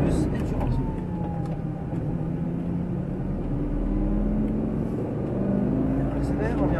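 A Lamborghini Gallardo Superleggera on a race track, its engine rumbling steadily up close through acceleration and braking, with rising engine tones, while a voice talks over it throughout.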